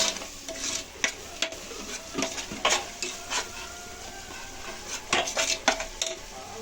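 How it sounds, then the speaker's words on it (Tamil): A spoon stirs biryani powder, chili powder, garam masala and cumin powder through a cooking pot, giving repeated close metal scrapes and clinks over a faint sizzle, with no voices. "பிரியாணி பொடி, மிளகாத்தூள், கரம் மசாலா, சீரகத்தூள் எல்லாம் போட்டு மிக்ஸ் பண்ணிடணும்"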